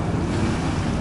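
Black Sea waves washing onto the shore at Adler near the railway station, a brief, steady surf rush mixed with wind buffeting the microphone.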